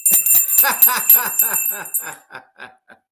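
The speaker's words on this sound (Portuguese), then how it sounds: "Essa merece até sininho." A small bell rings several times in quick succession, bright and close, its rings growing sparser and fading away toward the end.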